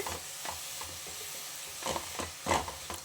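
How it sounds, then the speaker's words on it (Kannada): Grated carrot frying in ghee as a spoon stirs it, giving soft scraping strokes and a faint sizzle at close range with no talking. "ಕ್ಯಾರೆಟ್ನ ತುಪ್ಪದಲ್ಲಿ ಹೀಗೆ ಚೆನ್ನಾಗಿ ಮರುಗಿಸ್ಕೊಳ್ಬೇಕು."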